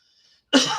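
A single short, close cough bursts out after a half second of near silence, then trails off briefly.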